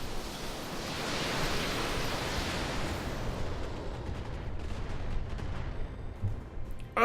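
Battletech mechs firing PPC and other weapons in a full volley, a dense roaring wash of blasts and rumbling impacts sustained for several seconds, loud and close, no talk.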